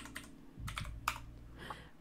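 HTML code being typed on a computer keyboard: a quiet run of close key clicks in an uneven rhythm, a few sharper taps standing out, with no talking.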